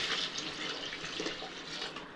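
Water pours steadily into a pot of marinated chicken, a continuous close splashing gush with no pauses.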